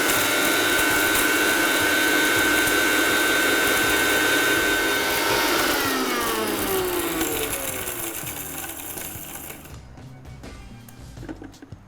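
Electric grinder whirring loudly as it grinds cinnamon and spices to a fine powder, a high steady motor whine that winds down in pitch and stops near the end.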